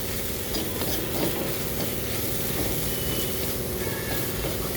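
A spoon stirs coriander powder into dal frying in a pan, a steady loud sizzle with faint scraping stirs running continuously beneath it.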